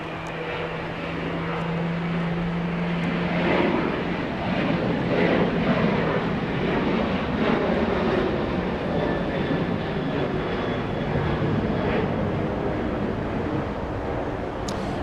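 A departing airliner at Los Angeles International Airport roars steadily and fairly close, a broad continuous engine rumble with a faint hum briefly audible early on.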